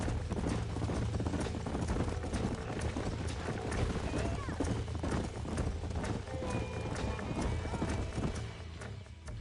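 Horses clip-clop in Red Dead Redemption, with steady overlapping hoofbeats, an occasional whinny and ambient game sound continuing throughout at moderate level.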